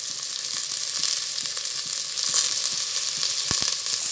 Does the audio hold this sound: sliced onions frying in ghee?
yes